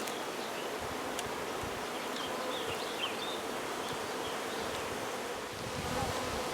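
A swarm of honey bees buzzes steadily around a hive box, with a dense, continuous drone close by and individual bees darting past at moments.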